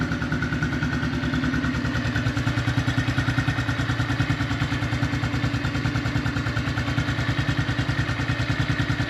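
A Honda CRF 110 motorcycle's small single-cylinder engine runs at a steady idle during an oil change, a fast, even putter that carries on unbroken through the whole stretch, close and fairly loud with no voices.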